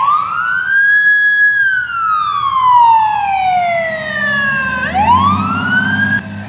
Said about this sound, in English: the fire truck is still going by